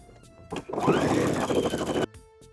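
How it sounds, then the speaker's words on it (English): A sewing machine edge-stitches folded binding on a round fabric drawstring pouch in one steady, close run of rapid whirring, starting and stopping abruptly. "I'm going to be stitching right on the very edge of it, creating a nice little edge stitch"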